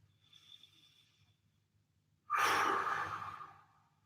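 A quiet, faint breath is followed by one long, loud exhale close to the microphone, taken during a home recovery stretching workout. The exhale fades out slowly.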